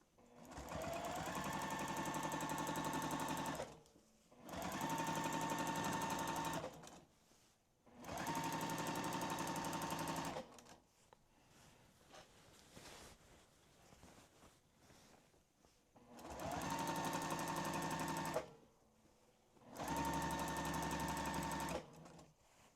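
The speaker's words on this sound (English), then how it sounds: "Now I am just going to continue to quilt" A sewing machine doing free-motion quilting runs in five long, steady bursts of rapid stitching. Each burst lasts a few seconds and is split by short pauses of quieter handling, with no talk.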